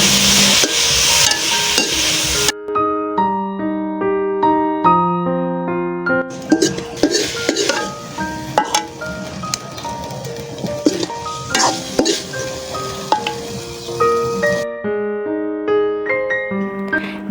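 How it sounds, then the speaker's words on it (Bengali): Boiled banana flower fries with turmeric, salt and cumin powder in a wok, giving a steady sizzle and scraping stirs under background music, loudest through the middle stretch. "এরপর কড়াইয়ে দিয়ে দিব সিদ্ধ করে রাখা কলার মোচা তারপরে দিয়ে দিব হলুদ লবণ জিরে গুঁড়া দিয়ে বেশ কিছু সময় ধরে ভেজে নেব"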